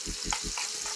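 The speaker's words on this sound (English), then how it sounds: "So we're going to let those onions cook down until it gets to a nice golden color like this." Onions fry in a skillet with a steady bright sizzle, while a utensil scrapes and stirs in quick rhythmic strokes close by.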